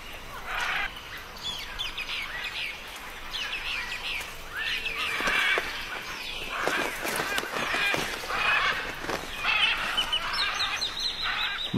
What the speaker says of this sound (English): Macaws are argumentative birds, and the best spots are keenly fought over.